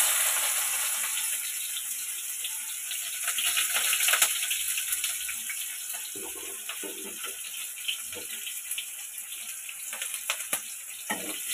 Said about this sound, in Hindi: एबे पियाज पकेबा।